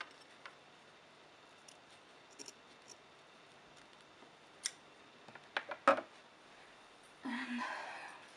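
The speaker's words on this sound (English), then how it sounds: "I'm going to cut my yarn." Scissors snip through crochet yarn close by, a few sharp clicks and snips scattered over a quiet background, with a brief rustle of handling at the end.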